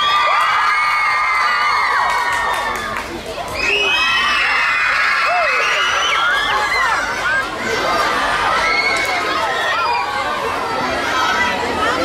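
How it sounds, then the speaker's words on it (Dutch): A large crowd of fans, many of them children, at a fan day event cheers, shouts and screams for a performer, with loud, continuous whoops and clapping throughout. "Grote applaus voor Joey Mart!"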